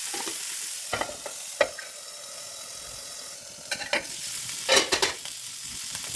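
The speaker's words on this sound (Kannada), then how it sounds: "ಮೀನನ್ನು ತಿರುಗಿಸಿ ಹಾಕಿ ಸ್ವಲ್ಪ ಎಣ್ಣೆ ಹಾಕಿ ಮತ್ತೆ ಮುಚ್ಚಿ ಬೇಯಿಸಿ" Fish fries in oil in a covered pan, a soft steady sizzle with occasional sharper crackles and pops, close and without talk.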